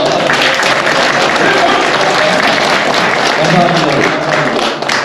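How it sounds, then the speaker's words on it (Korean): An audience claps loudly and continuously at a joint policy agreement ceremony for a smart semiconductor city in Gyeonggi Province, a thick, unbroken roar of hands filling the hall. "박수 한번 보내주시죠"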